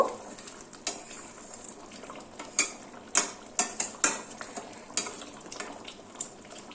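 A spoon stirs ghee through shahi paneer in a pot, giving a run of sharp metallic scrapes and clinks at an irregular rhythm, close and fairly quiet, with no talking.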